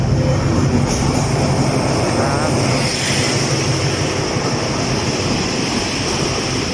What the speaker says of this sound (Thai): ตรงนี้รถไฟก็เริ่ม เข้าสู่ชานชาลาที่1กันแล้วนะครับ